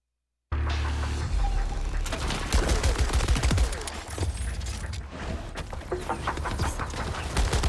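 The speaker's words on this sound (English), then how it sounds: "Were you just shooting at your own, like, ally?" Gunfire from the Borderlands 4 video game, a dense, loud barrage of rapid shots and impacts that starts abruptly and continues almost without pause, with brief surges and bursts across the whole stretch.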